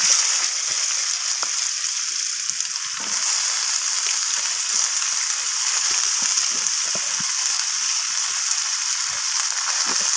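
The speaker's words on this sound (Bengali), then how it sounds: "পেঁয়াজটাকে একটু লালচে রং করে আমি ভেজে নিচ্ছি।" Chopped onions frying in oil until reddish, a steady hissing sizzle with scattered stirring clicks throughout, no one talking.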